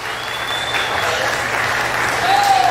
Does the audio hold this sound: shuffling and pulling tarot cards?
no